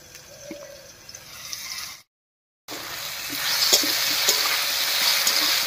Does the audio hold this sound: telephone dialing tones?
no